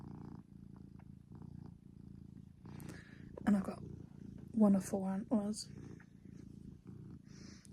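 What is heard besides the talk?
cat purring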